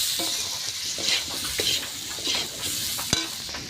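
A spatula stirs bata fish and mankochu taro frying in turmeric oil, with repeated scraping strokes and occasional clinks against the pan over a constant close sizzle; no one speaks.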